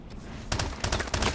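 Rapid automatic gunfire from a weapon in Call of Duty: Advanced Warfare, starting after a half-second lull and continuing as a loud, close burst of repeated shots.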